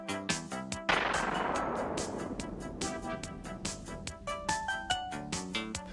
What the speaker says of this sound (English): Locked on target and firing missiles.